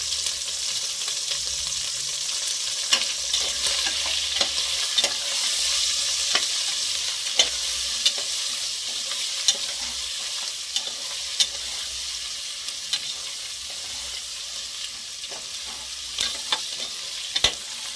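Chillies and curry leaves fry in hot oil for veg biryani, a continuous bright sizzle broken by repeated spoon scrapes and taps against the pan, with no one talking.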